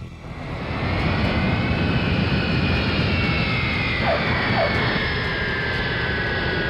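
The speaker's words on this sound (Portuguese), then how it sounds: "o avião pousa muito mais longe do limite pretendido, aterrissando na pista a aproximadamente 670 metros além do limite" A passenger jet, Air India Express Flight 812, touching down long on the runway, its loud steady engine roar filling the scene with a rising hiss and faint whining tones sliding across it.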